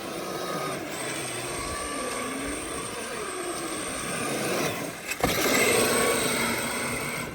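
A Traxxas Summit RC rock crawler fitted with Xmaxx tires, running in second gear in rear-wheel drive on slick ground, its electric motor whining steadily at close range and surging louder near the end.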